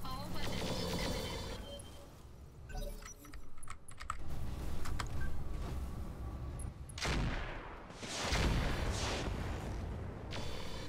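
Weapons fire in the BattleTech mod Roguetech, a dense, loud barrage of clattering, crackling shots and bursts that runs almost continuously, with the heaviest impacts near the end.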